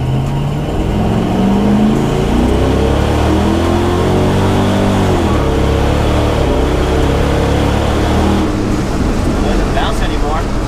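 An LS-swapped Chevrolet C10 truck accelerates hard through its gears, engine rising steadily in pitch, dipping at a shift, then climbing again under a continuous loud drone, with people talking over it.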